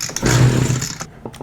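Echo SRM-225 string trimmer, a small two-stroke engine, catches on choke with a loud buzzing burst lasting about a second, then cuts out, followed by a couple of faint pulls or sputters.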